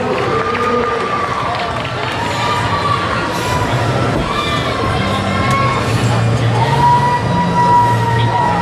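At an IPF powerlifting meet, the crowd cheers and shouts for lifter Gavin as he steps up to a 175 kg squat. The noise is loud and sustained, with voices talking throughout.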